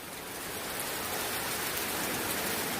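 Steady rain pours down close by, a dense even hiss of drops with no voices.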